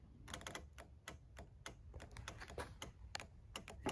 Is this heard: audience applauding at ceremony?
no